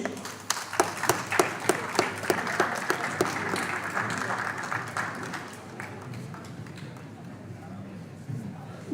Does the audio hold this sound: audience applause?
yes